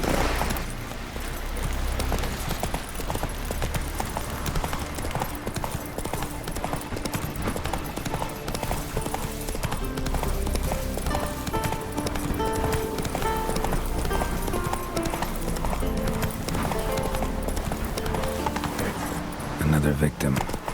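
Horse galloping in The Witcher 3, with steady rhythmic hoofbeats continuing under game music and spoken dialogue throughout.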